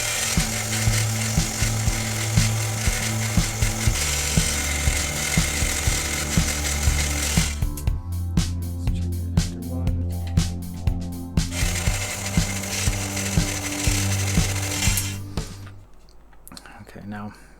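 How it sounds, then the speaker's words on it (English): A TPU ring being sanded by hand, the steady scratchy friction running with rhythmic strokes, close and fairly loud, before it thins out near the end. "So let's go ahead and sand this side."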